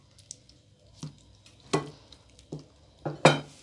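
Eggs being mixed for a Spanish omelette, a utensil knocking against the bowl in a few sharp, separate clacks with soft stirring between them, close and fairly quiet.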